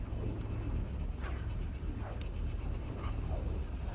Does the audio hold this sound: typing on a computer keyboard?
no